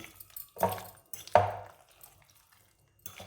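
Chicken pakora batter being mixed by hand in a bowl, with two wet, squishy slaps about a second apart, then quiet, and a third stir starting at the end, close and fairly soft.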